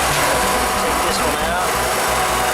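A refrigeration unit's condenser fan motor runs with a steady, loud whirring drone that fills the whole stretch without a break.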